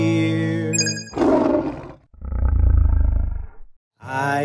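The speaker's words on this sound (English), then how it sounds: "I hear a lion roaring in my ear." A lion roars in a children's sing-along storybook, a loud, rumbling roar with a deep, growling body, set between bright chimes and other short sound effects.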